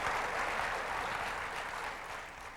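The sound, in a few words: audience applause during Steve Jobs keynote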